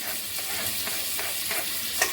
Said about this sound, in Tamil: ஒரு நாலு பெரிய வெங்காயம் நீள நீளமாக கட் பண்ணி வச்சுருக்குங்க அதை போட்டு நல்லா வணக்கலாம்